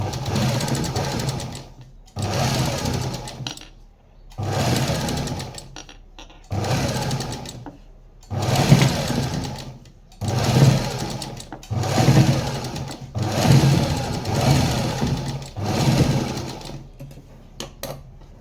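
A sewing machine stitches a garment sleeve in repeated loud, steady runs of rapid mechanical chatter, each lasting a couple of seconds and separated by brief pauses.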